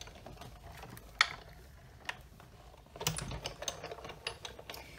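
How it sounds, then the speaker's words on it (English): A Big Shot die-cutting machine is cranked for card making, heard as close mechanical clicks and a grinding ratchet-like rumble that builds toward the end after a few sharp knocks. "I'm going to run this through the Big Shot."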